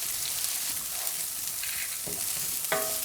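Shiitake mushroom cubes drop into a hot frying pan for an aubergine curry, giving a steady close sizzle with a few scraping stirs and light clinks, no talking.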